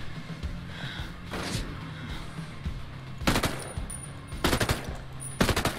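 Gunfire laying down suppressing fire on a sniper in Ghost Recon Breakpoint: a few short, sharp bursts rise over a steady low background rumble, the loudest coming near the end, with no talking.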